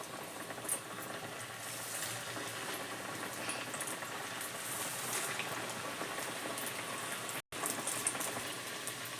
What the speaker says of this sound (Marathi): आता आपण तळायला घेऊया बघा इथे तेल तापले